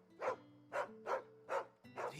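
Torgal, the dog in Final Fantasy XVI, gives five evenly spaced barks close up, each a short woof over a faint sustained musical tone.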